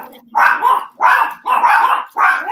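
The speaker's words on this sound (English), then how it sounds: "Those are my dogs." Dogs barking in four loud, close bursts, each a quick run of overlapping barks separated by short pauses, with no talk over them.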